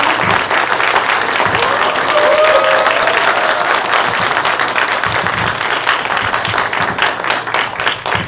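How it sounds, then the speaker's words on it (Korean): A large audience applauds at an event in Seongnam, loud continuous clapping with crowd noise and occasional cheers across the whole stretch. "큰 박수 부탁드립니다"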